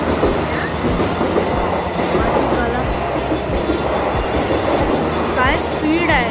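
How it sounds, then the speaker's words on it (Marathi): A Mumbai local train overtakes on the adjacent track, heard from inside a moving local, with loud rhythmic clickety-clack of wheels, rumbling carriages and brief wheel squeals under occasional voices. "त्या लोकलनी आम्हाला ओव्हरटेक केला."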